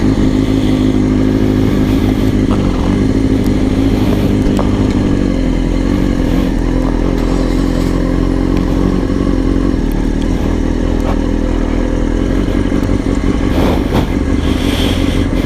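A 2006 Kawasaki ZX6R 636 motorcycle engine runs loud and steady, with a continuous close rumble, some mechanical clatter and a few brief surges, and no voices.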